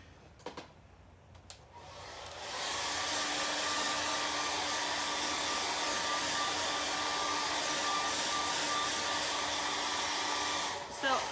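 A hair dryer switches on after a couple of seconds of quiet handling and blows steadily at close range to dry chalk on a craft project, then cuts off near the end with a small clatter.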